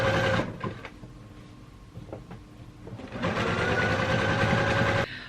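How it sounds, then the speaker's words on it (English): A sewing machine stitches down the neckband of a plus-size dress in two close, loud, steady whirring runs separated by a short pause. "Let me stitch this down."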